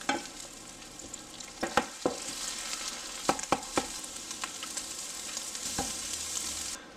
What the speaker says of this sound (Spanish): Usar un poco de aceite de oliva para cocinar los huevos